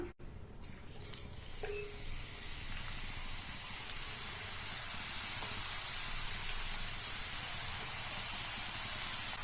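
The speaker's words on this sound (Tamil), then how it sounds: "இத கொஞ்சம் கொஞ்சமா எண்ணெயில சேர்த்து பொரிச்சிடலாம்" Potato slices deep-frying in hot oil in a pan for crispy chips, giving a steady, dense sizzling hiss that fills the whole stretch without pause, with no talk over it.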